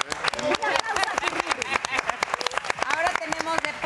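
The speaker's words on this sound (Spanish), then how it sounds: "Un aplauso a ti, Rubio" A studio audience on a morning TV show claps in a brisk, steady patter of many hands, moderately loud and sustained, with voices mixed in underneath.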